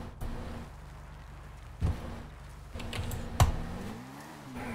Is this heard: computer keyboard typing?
yes